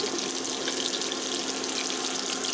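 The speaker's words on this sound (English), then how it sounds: "All right, so I'm going to pour some of this in here." Chicken broth pours from a container into a slow cooker in a kitchen, a steady, dense hiss of liquid that holds an even level with no talk.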